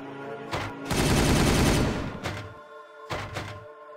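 Gunfire in a Warhammer 40,000 video game, Dark Angels versus Ultramarines, with a sustained roaring volley of shots in the middle framed by shorter, punchy bursts before and after.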